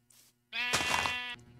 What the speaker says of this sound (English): There's so many sheep, boy.